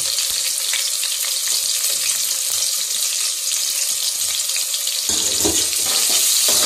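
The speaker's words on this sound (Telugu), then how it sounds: "ఆయిల్ అయితే వేడైంది. ఇప్పుడు ఉల్లిగడ్డ వేసుకుంటాను." Onions and green chillies sizzle and fry steadily in hot oil in a pan for a mutton curry, a dense continuous crackle up close with a brief stir near the end and no talk.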